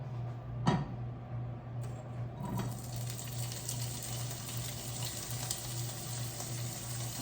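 Omelette ingredients sauté in a hot pan, giving a continuous sizzle and crackle after a couple of sharp clinks, with a steady low hum underneath.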